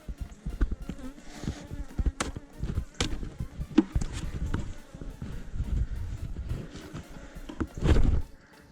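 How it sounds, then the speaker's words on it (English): Honey bees buzz around an opened beehive during autumn care, with a continuous close droning hum and irregular louder knocks and bumps from handling the hive boxes. "most of the bees are right here"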